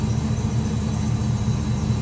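Cold engine idling under Pro M EFI control, a steady low rumble with an even throbbing pulse, continuous and close with no other sounds.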